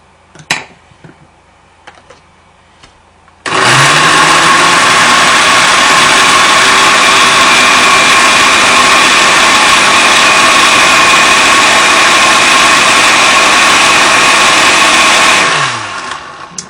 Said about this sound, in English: that seems like it's starting to be a lot for my blender here